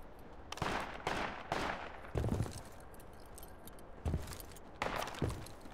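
Gunfire in the Project Reality 2 military shooter game: several sharp, loud shots and short bursts spread across the clip, separated by brief gaps with a quieter background between them.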